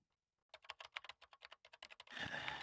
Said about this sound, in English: I speak loudly to try to overtake the sound of fingers hitting keys.